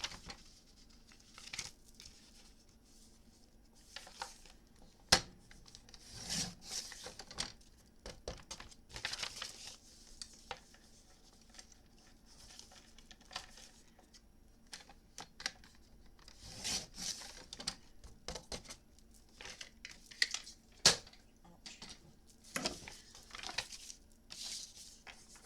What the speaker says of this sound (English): we're just going to leave half an inch there, and we'll trim away